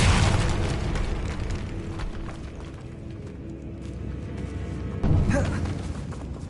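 An Incendio fire spell blast in Hogwarts Legacy: a loud, roaring boom that slowly fades into a rumbling wash, then a second sharp burst swells near the end.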